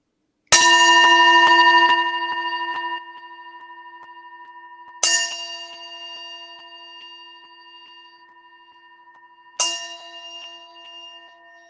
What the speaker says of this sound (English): I'm going to hit this gong 3 times